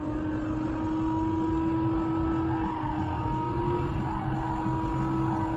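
Race car engines in a racing video game drone steadily at low volume with a constant tonal whine, a continuous mechanical hum without distinct skids or voices.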